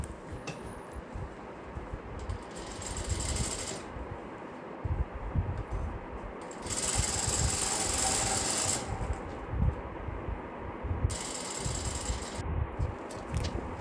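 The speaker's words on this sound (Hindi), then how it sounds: "फिर हम चलते हैं मशीन पे और हम इसको आराम से यहाँ पे एक सिलाई डाल देंगे" A sewing machine stitches a seam on a pant being altered, running in several sustained mechanical whirring bursts with brief stops between them, close and moderately loud, with no talking.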